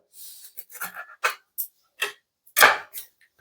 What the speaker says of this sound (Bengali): এই দেখো ফুলকপিগুলো কেটে নিচ্ছে সুন্দর সুন্দর পিস করে